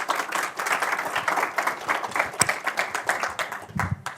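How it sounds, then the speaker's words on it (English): An audience claps for a speaker, Cameron, at a talk. The clapping runs steadily and fairly evenly, moderately loud and slightly distant, with no voices over it, and tapers off near the end. "Everyone, give Cameron a round of applause."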